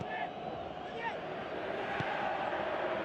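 Stadium crowd noise swells steadily in a PES football video game, a dense continuous roar of cheering that runs under a commentator's voice.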